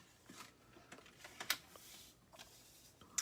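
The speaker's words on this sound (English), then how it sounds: "Now I'm going to score from this corner where the fold is down to the same point" A Stampin' Up! card gets its fold line scored: a faint series of scratchy clicks and taps, with one sharper scrape in the middle, quiet and close.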